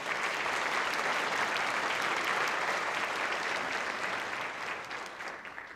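An audience at a Chamber of Commerce annual meeting in a Tucson Hilton resort applauds the chef and wait staff, dense sustained clapping that fills the room before slowly tapering off near the end.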